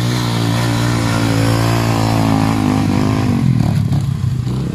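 Motocross dirt bikes, a 150 and a 125, ride close by with a loud, continuous engine drone that rises and falls in pitch as the riders work the throttle.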